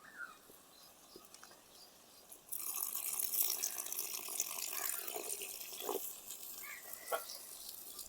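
Water splashes into an old-style egg curry as it cooks, a quiet hiss that swells suddenly and then keeps on in a steady sizzle, with a few faint clinks.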